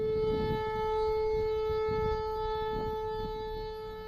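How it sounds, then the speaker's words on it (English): A malfunctioning tornado siren drones on with a steady warbling tone at a fixed pitch, somewhat distant and continuous, with low rumbling noise underneath. "it's likely just a malfunctioning tornado siren, like this."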